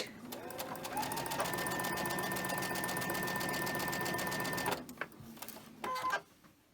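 A sewing machine stitches quilt fabric on the bias at a 2.0 stitch length with a quarter-inch seam, running continuously for several seconds before stopping and then giving two short bursts.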